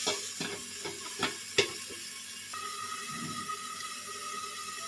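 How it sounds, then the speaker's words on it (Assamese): Meat fries in a covered pan, giving a steady sizzle with a few clinks of the lid or a spoon early on, close and alone without talk. "এনেকৈ অকণমান টাইম ভাজি অকণমান টাইমৰ কাৰণে ঢাকি দিম"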